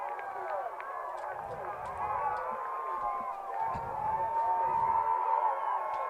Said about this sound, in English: Well, the Goblin crowd is definitely fired up now